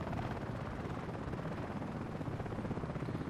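A helicopter in the video game Battlefield Play4Free drones with a loud, constant rotor and engine roar and a dense rumble that barely changes.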